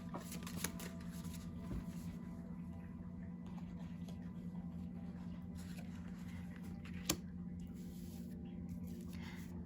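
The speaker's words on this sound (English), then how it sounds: "I'm gonna pull some cards around how you can feel more confident." Tarot cards shuffled close up in a soft, continuous riffling patter with a few sharper card taps, quiet against a low steady hum.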